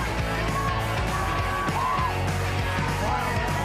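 A stadium crowd yells, whoops and cheers continuously at a masonry competition, a dense roar of many voices with scattered louder shouts rising above it.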